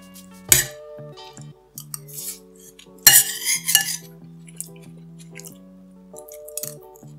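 Metal cutlery clinking and scraping on a plate while eating kimchi fried rice with a crunchy egg, a few sharp clanks over quiet background music, with soft chewing between.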